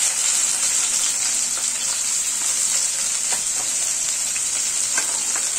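Chopped onion frying in hot oil, a loud, steady sizzle that fills the whole stretch, with scattered small pops and crackles and no voices.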